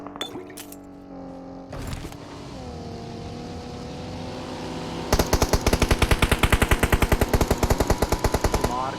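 A buggy's engine drones steadily in a battle-royale shooter match, and from midway rapid bursts of close, loud machine-gun fire rattle over the running motor.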